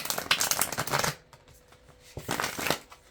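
Two quick bursts of cards being riffle-shuffled, a rapid fluttering patter separated by a short pause, close and clear.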